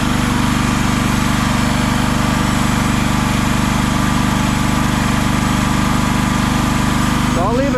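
A mini excavator engine idles while warming up in the morning, a steady loud low rumble droning on without a break, with a brief change in tone at the very end.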